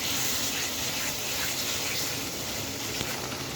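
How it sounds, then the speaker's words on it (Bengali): Water is poured into a spiced mutton masala of yogurt, cumin, ginger, garam masala, turmeric, chili powder and salt being fried in a pan, producing a steady, close gushing splash that lasts a few seconds without a break. "সামান্য একটু জল দিয়ে আর কষিয়ে নিই।"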